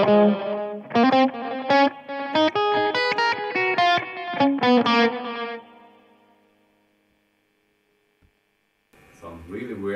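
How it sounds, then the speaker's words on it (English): Distorted electric guitar through the multi-tap delay effect of a Blackstar ID Core Stereo 40 amp head, a quick run of notes with stacked repeats that fade into near silence before playing resumes briefly. "And finally, a multi-tap."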